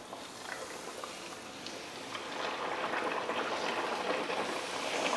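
Poori frying in hot oil in a kadai, a steady dense bubbling sizzle that swells slightly louder partway through, with no voices.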